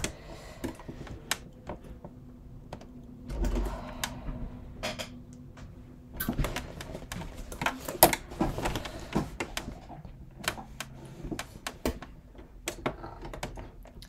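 Sewing machine top stitching through thick leather on a crossbody bucket bag, heard as irregular bursts of close ticking stitches with pauses and clunks in between, and no voices.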